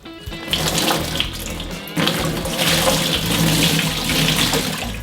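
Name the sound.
water poured over a brined turkey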